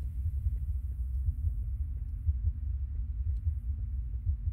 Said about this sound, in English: I don't know if you guys can hear the heartbeat.